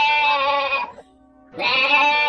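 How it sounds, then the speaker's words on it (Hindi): A goat bleats loudly in two long, nasal, wavering cries separated by a short quiet gap, close and clear with no talking. "और फिर बकरी जोर जोर से चिल्लाने लगी, गाने लगी।"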